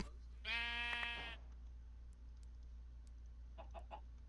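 A sheep in Minecraft bleats once, a loud harmonic bleat lasting about a second, followed near the end by a few short fainter bleats, with no talking.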